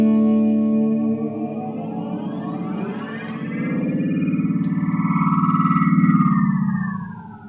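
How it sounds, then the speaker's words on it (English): A guitar effects pedal in twist-function freak-out mode, triggered by holding the tap switch, makes loud warbling tones whose pitch bends upward and swells into a wobbling, echoing drone. "You can hold down the tap pedal and it'll go into like crazy freak out mode."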